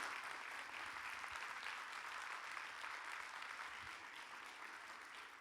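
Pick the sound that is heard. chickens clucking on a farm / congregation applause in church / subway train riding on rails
congregation applause in church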